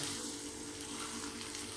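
Two beaten eggs hit hot oil in a kadhai already holding browned onion, turmeric, salt and chutney, giving a steady, close, dense sizzle that carries on without a break and with no voices.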